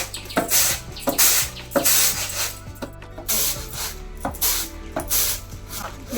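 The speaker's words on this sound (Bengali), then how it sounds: "ছোটি এদিকে চাল ঝাড়ছে" Rice shaken and tossed in a winnowing tray in a home kitchen, a steady run of dry rasping, rubbing strokes with regular rhythmic pulses, close and moderately loud, with no talking.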